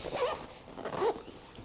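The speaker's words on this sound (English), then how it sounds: "Zip that guy back up." The zipper on a NayoSmart Herman H2 half roll-top backpack is pulled closed in two quick, quiet strokes, heard close up with no talk.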